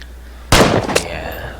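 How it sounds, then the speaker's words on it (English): A single loud gunshot goes off in the Vigor video game, an abrupt close crack followed by a short echoing tail, on its own. "right here, I start shooting at him"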